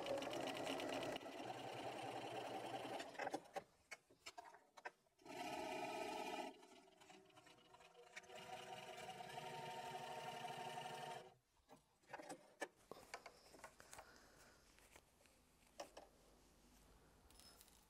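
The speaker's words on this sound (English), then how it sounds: "I'm just going to do a couple of back stitches" A sewing machine stitches back and forth on a fabric tissue holder, running in a few short bursts and two longer steady whirring runs, then falling to quieter handling clicks.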